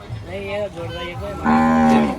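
A bull at a cattle market lets out deep, close, loud moos, a few shorter calls followed by a long drawn-out bellow, with faint voices nearby.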